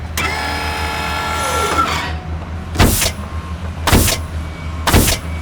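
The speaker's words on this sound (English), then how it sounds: "you hold the post, and I'll drive it in" A fence post is driven into wet ground with three loud, heavy thuds about a second apart, following a rising and falling mechanical whine.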